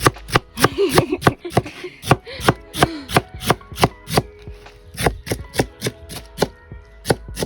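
A knife chops vegetables for a salad on a board, a fast, regular series of sharp, close knocks running throughout, with a brief voice murmuring early on.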